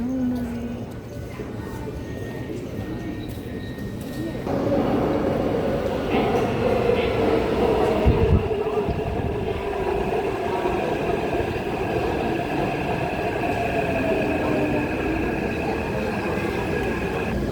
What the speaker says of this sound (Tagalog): Ayan, paparating na yung train.